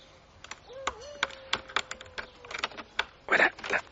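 A front door lock being picked at night, a run of small irregular metallic clicks and taps, close and quiet, with a faint tone briefly underneath.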